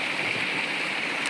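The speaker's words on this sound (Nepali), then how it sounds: "अहिले चाहिँ हामी यो खोलामा छौँ" A stream flowing near Dhap Dam, a steady close rushing of water with no talk over it.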